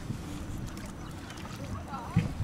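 Water sloshes against a small boat as it moves along, with a soft wind rush and a few muffled voices nearby.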